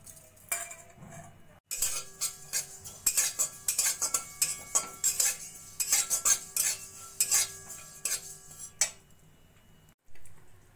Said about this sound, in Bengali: প্রথমে কড়াই গরম করে আমি 1 চামচ মতো তিল ভেজে নেব।